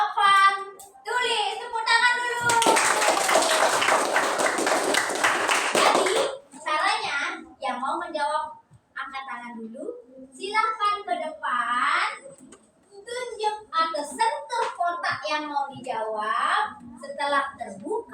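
A burst of many schoolchildren clapping hands together for a few seconds in a classroom, with children's voices chattering before and after.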